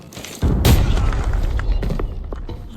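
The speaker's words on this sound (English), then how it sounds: "Let the third grenade finish off his teammate." A grenade detonates in the Arena Breakout shooter game, a sudden loud boom followed by a sustained rumbling tail that slowly fades over the next two seconds.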